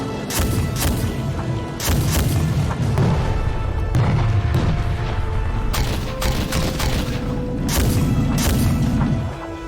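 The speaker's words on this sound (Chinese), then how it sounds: "大家注意，黄副军长的1号车准备开火" A tank's main cannon fires in a dramatized military training scene, giving a dense barrage of heavy booms and sharp blasts that repeat without pause throughout, with no talking.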